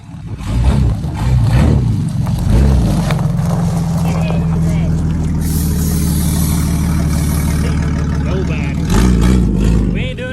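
A remote control Jeep WJ rumbles steadily with a low motor drone that rises and holds as it pulls away in gear, loud and close throughout.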